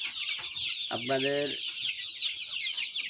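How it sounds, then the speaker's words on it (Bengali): Chickens and chicks at a poultry shop, one clear close cluck sounding over a continuous high chorus of chick peeps, with a brief spoken word mixed in. "এখানে সকল প্রজাতির মুরগির বাচ্চা পাওয়া যায়।"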